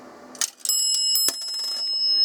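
A dime drops with a brief clink in a Northern Electric three-slot 233 payphone, then a small metal bell rings sharply twice, each strike leaving a bright lingering ring.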